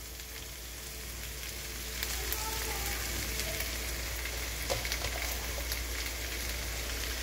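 Pork meat sizzles in a hot pan, a steady hiss that swells a little louder after about two seconds as the meat goes in, with faint clinks and stirring over the frying.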